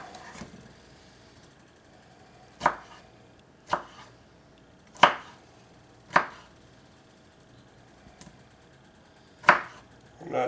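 A knife chops tomatoes on a cutting board for chicken and dumpling tortilla soup, with six or seven sharp, separate thuds spaced irregularly over a low background hum.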